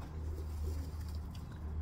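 A racing pigeon, a hen with young, coos softly and steadily as a low, continuous murmur against a quiet background.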